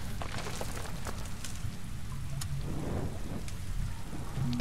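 Thunder rumbles through a rainy storm scene in the video game Tomb Raider, a steady wash of rain and low booming at moderate level with no talk over it.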